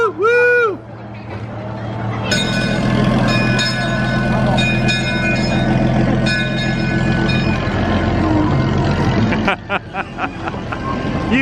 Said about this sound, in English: Chuck and Raquel on the train.